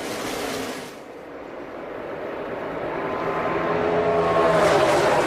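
NASCAR Xfinity stock cars race around the track at the 2022 Andy's Frozen Custard 300, a loud engine roar that dips and then builds steadily as the cars sweep closer, with no talk heard.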